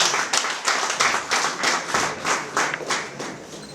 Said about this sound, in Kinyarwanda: Amashyi menshi cyane rero.